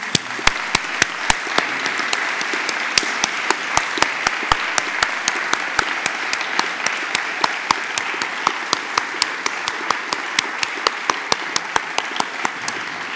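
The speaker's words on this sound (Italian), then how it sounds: "Quindi direi di rivolgere a loro un grande applauso" A graduation ceremony audience applauds continuously for an Executive MBA class, a steady wash of clapping punctuated by many sharp, distinct individual claps close by, with no one speaking over it.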